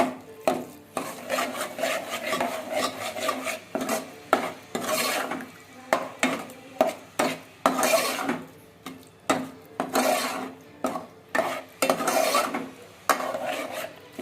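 Amti curry stirred in a pot after kokum and jaggery go in, with repeated rhythmic scraping strokes of a spoon against the vessel, close and clear with no talk.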